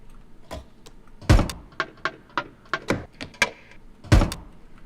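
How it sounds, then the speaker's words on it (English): A Foley recording of a drawer being slammed shut, used as a kick drum, makes a series of dull wooden thuds in an uneven rhythm. The hits are close and punchy, with two heavier slams standing out. "the kick that I did was from Foley, but it sounds like a drawer is closing and I'm slamming it."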